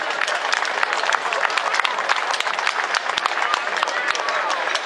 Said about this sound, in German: Dann kann man also für unsere Gäste aus Kirchhunde noch mal ein extra Kräftchen Applaus geben.